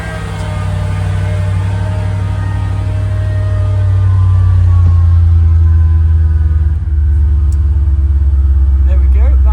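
A Mercedes R230 engine is started and settles into a steady, loud idle, a deep low rumble that holds evenly for several seconds at close range. A person talks over it throughout.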